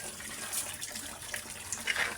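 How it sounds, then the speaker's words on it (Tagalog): Water being poured out for pigs after feeding, a quiet running and splashing stream with small bright splashes near the end. "kaya nilagyan na ng tubig mga kaboy"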